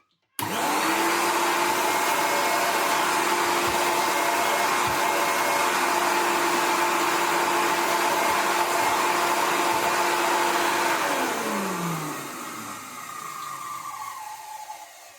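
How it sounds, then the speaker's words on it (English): A 1980s Goblin Solo vacuum cleaner with a bad bearing switches on and runs with a loud, close, steady whirring roar and a sustained hum, then powers down with a falling whine near the end. "it sounds great when it's running. It's just got a bad bearing, but it does run."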